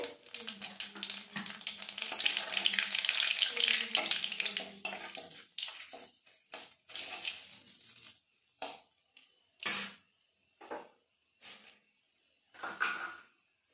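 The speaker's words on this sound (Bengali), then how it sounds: "কালো জিরে দিয়ে দিলাম ফোড়নে" Black cumin seeds and dried red chillies hit hot oil for tempering a rohu fish curry with cauliflower: a dense sizzle for several seconds, then sparse clinks and scrapes of a spoon against the pan.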